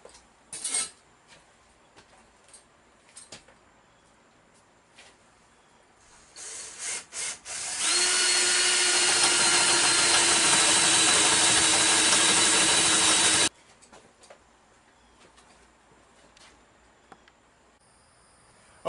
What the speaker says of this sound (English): first we have to drill some holes.